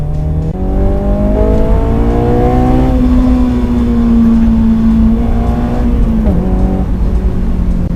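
A Honda S2000 engine revving hard toward 9000 rpm, loud and close, with its pitch climbing steadily and dropping briefly at gear changes, steady throughout.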